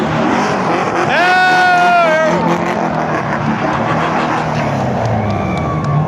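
At Dover Motor Speedway, a race car roars across the finish line with a rising, then sweeping engine whine that stands out over a loud, steady crowd and track din. A public-address announcer talks through it.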